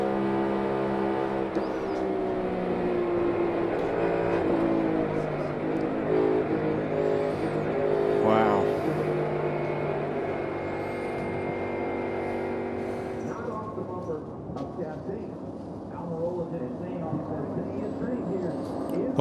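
Onboard sound from a NASCAR Cup Series race car at the Ambetter Health 400, a loud, continuous engine drone with shifting pitch and steady road roar over the whole stretch, with commentary voices over it.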